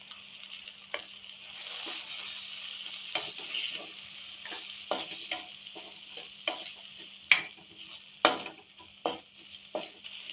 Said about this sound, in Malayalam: രണ്ട് പച്ചമുളക് ഒരു തക്കാളി ചെറിയ കഷ്ണങ്ങളാക്കിയത് കുറച്ച് കറിവേപ്പിലയും ചേർത്ത് ഫ്രൈ ചെയ്തെടുക്കാം